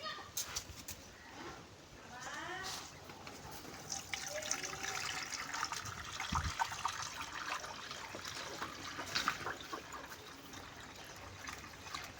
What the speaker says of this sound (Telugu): ఇప్పుడు దీనికి వాటర్ వేస్తాను ఫీడ్ డ్రింకర్ అనమాట